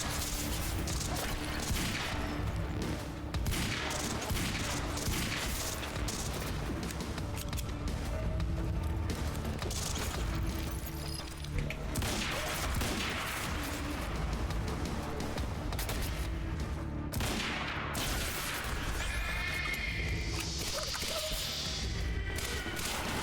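Burst-fire gunfire in the Quantum Break game: rapid volleys of shots and crashing impacts crackle through a busy, steady battle mix for over twenty seconds, with no clear speech.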